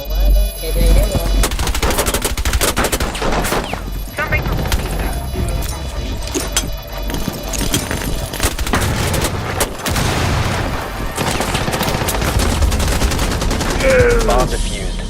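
Rapid automatic gunfire and bursts of shots in a Rainbow Six Siege match, dense and loud throughout with occasional booms, under players talking.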